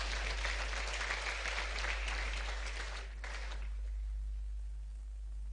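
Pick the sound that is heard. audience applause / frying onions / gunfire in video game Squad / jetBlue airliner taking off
audience applause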